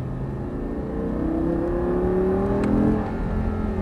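An Audi R8 accelerating on the Lyon race circuit, heard from inside as a steady engine whine that rises in pitch through a gear, loud and close with no talk.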